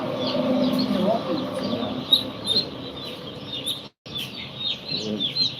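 Broiler chicks at a poultry shop chirp in rapid, high, overlapping peeps, with a few lower clucks, close by under a voice talking throughout.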